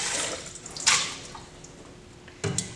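Orbit bath liquid is poured into a film processing tank, a soft splashing trickle that fades, then a couple of sharper sloshes and clicks near the end, quiet and close.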